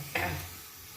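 Tea with milk, sugar and tea leaves heating in a pot on a gas stove, giving a soft sizzling, bubbling hiss that swells suddenly and then settles into a steady simmer, close by with no talking.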